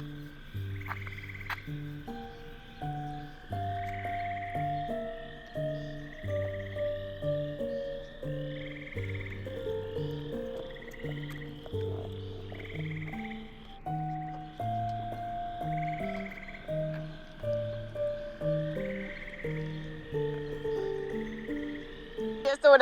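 A chorus of frogs croaks in a steady, rhythmic night-time pulse, many overlapping calls repeating continuously at moderate volume, with no talking.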